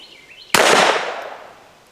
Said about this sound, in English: You can shoot the steel.